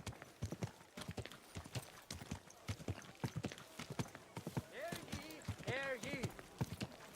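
Horse hooves clip-clop in a steady walking rhythm in Kingdom Come Deliverance 2, close and distinct, with a horse whinnying partway through and voices speaking over the hoofbeats.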